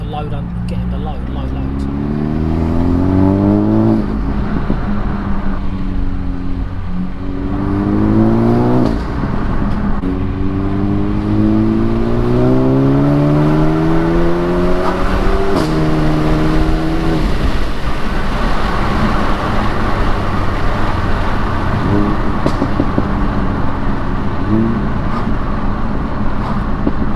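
Renault Megane RS Trophy engine revving hard under load, loud with repeated rising pitch sweeps that climb, drop back and climb again, then settle into a steady heavy drone while a person talks over it.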